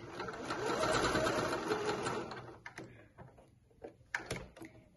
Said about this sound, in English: I'll do a little back stitch at the beginning and the end.